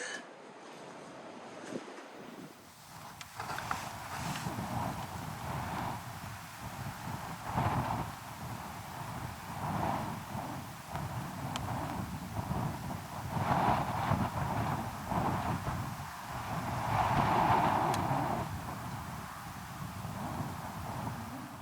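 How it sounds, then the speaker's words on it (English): Steady wind roars and buffets the microphone on a Guernsey cliff path, with gusts swelling and fading in a continuous rush; no one speaks. "it'll probably be pretty windy out here"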